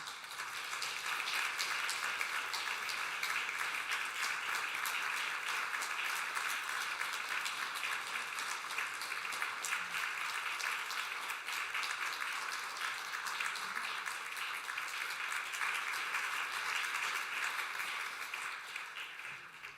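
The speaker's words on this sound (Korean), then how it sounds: "우리 전달할 때 큰 박수로 격려하겠습니다." Steady, sustained applause from a church congregation honoring graduates at a year-end Sunday service, a dense even wash of many hands clapping continuously at moderate distance, with no talk over it.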